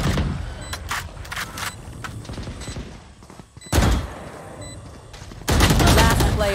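A Vandal rifle fires in Valorant in rapid bursts of sharp shots, with quick taps early on, a pause, then heavy sustained strings of fire toward the end, loud and close.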